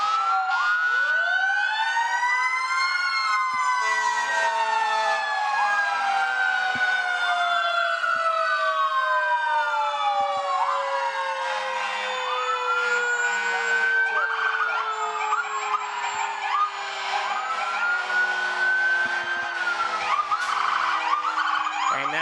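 Bolton Fire Department fire engine at the Civic Days Parade 2024, sounding loud wailing sirens with several rising and falling tones overlapping continuously for the whole stretch, no voices over them.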